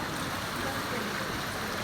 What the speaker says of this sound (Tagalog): Ayan guys, ang baha.